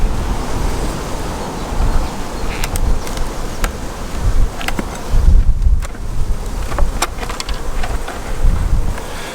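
Honeybees buzzing around a hive opened for the first time since autumn, a steady close drone mixed with wind rumble on the microphone and occasional sharp clicks from handling the hive.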